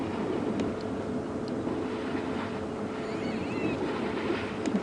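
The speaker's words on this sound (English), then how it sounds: "You hear them sloshing through the water." Elephants slosh through water on an African safari drive at sunset, a steady wet churning wash with faint bird calls above it.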